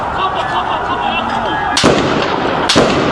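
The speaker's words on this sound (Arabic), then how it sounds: "اطلاق نار بنزلة البلد" Two heavy gunshot blasts boom about a second apart over a constant loud rumble of wind or traffic, recorded from a rooftop in Daraa, Syria, during security-force shooting.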